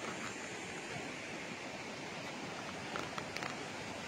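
Steady rushing of a river beside a temporary bridge on a farm lot in Majayjay, Laguna, a continuous soft wash of flowing water with a few faint clicks near the end and no one speaking.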